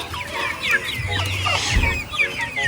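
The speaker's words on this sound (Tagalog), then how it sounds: "Andito yung mga manok." Several large, nearly harvest-size chickens cluck and squawk close by, overlapping calls in a steady outdoor chorus with low rustling underneath.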